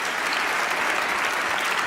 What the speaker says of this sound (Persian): برو تشویقش کنیم